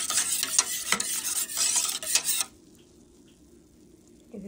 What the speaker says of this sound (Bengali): দুধের মিশ্রণটা দিয়ে দিলাম। এখন এটাকে সুন্দরভাবে ভালোভাবে নেড়ে চেড়ে নেব।